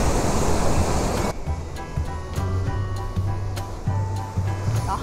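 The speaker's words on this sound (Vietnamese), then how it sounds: "Sóng đánh dữ quá mà em sợ" Rough sea near a lighthouse at Sète in southern France sends a loud wave crashing with a broad roar, then a quieter wash and wind follow, with faint voices.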